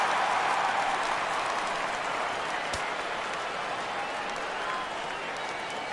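A baseball stadium crowd at a Blue Jays versus Royals game rises and cheers for a full 3-2 count, a steady, distant roar that holds evenly throughout.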